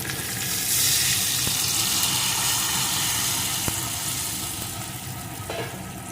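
Warm water poured into a hot pan of frying flour mixture for a hilsa fish head and taro curry, giving a loud, steady, close-up sizzle and hiss that stays even throughout with no talking.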